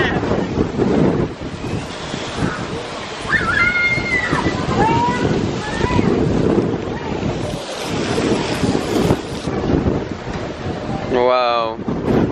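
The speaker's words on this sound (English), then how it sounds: "Wow, it's windy." Strong wind roars steadily into the microphone over crashing surf on the deck of a cruise ship at sea, with a few faint voices and cries in the background.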